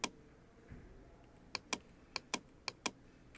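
Keys tapped on a computer keyboard, a scattering of sharp, close clicks with a louder first strike and then irregular single taps at a relaxed pace over a quiet background.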